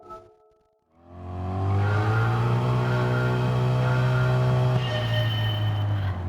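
A tuned car rolls onto the track in Gran Turismo 7: after a brief quiet moment, its engine catches and settles into a loud, steady droning tone that holds evenly to the end, with no talk.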